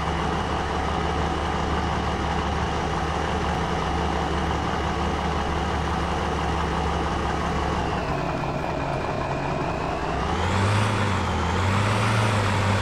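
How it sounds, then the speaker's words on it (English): Tractor engine in the farming game Dad's Farm, a steady close drone with a low rumble that dips and then rises in pitch near the end as the machine slowly backs up. No voices are heard. "This tractor backs up very, very slow"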